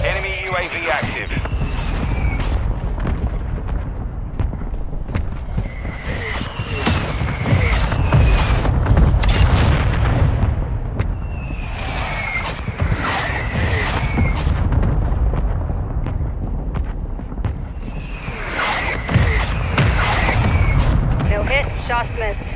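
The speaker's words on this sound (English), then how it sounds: "Requesting fire mission, target mark. Copy. Mortar strike inbound." Mortar strike explosions in a video game roll in as repeated heavy booms over a continuous battle din, with whistling incoming rounds and bursts clustering every few seconds.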